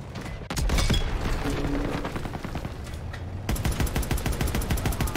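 Dense gunfire in the World War II shooter Call of Duty: WW2, with rapid automatic bursts and heavy shots hammering continuously, a regular machine-gun rhythm taking over toward the end.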